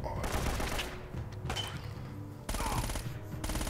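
Gunfire in Uncharted: Drake's Fortune comes as dense, rapid bursts that crackle almost continuously with brief breaks, loud and close.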